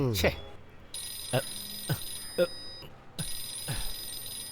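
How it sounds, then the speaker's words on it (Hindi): A telephone rings in repeated bursts of bright electronic tone, with thumps and rustling in between, fairly close and moderately loud. "एक मिनट, बीवी का फोन है।"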